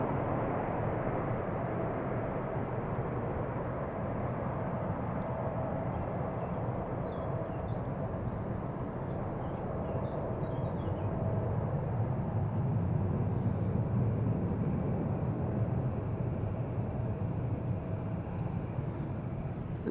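A 25-year-old British Airways airliner takes off at Amsterdam Schiphol, a steady, broad jet roar heard from a distance that swells slightly toward the middle and holds on, with no voices.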